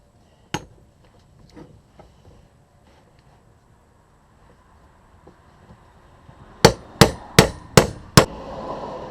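Metal hammer blows drive a U-joint cap into the yoke ear of a Jeep TJ Wrangler during a U-joint replacement, with one sharp strike early on and then five loud, evenly spaced impacts in quick succession near the end.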